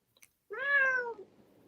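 A single close, clear cat meow, rising then falling over about a second, with a faint click just before it and quiet room tone after.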